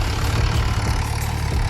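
A farm tractor engine idles with a steady low, throbbing chug, close and constant throughout the short stretch.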